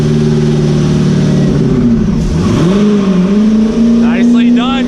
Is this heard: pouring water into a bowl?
no